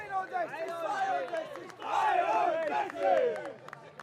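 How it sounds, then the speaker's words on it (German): A crowd and the judging jury cheer and shout excitedly at an outdoor stone skimming contest in Berlin, a loud sustained roar of overlapping voices that swells midway and stays strong. "Selbst die Jury kann sich da den ein oder anderen frenetischen Jubelruf nicht verkneifen."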